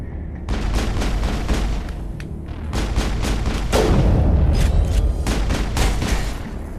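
Rocket launcher fire and explosions in the Mass Effect video game: a rapid string of loud booms and blasts, with a sustained heavier rumble in the middle, close and dense.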